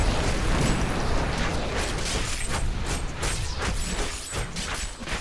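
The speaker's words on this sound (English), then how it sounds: "Don't stand in the explosion." Video game explosion in Diablo 3: a dense, sustained roar of rumbling blasts and crackling bursts fills the whole stretch, loud and continuous.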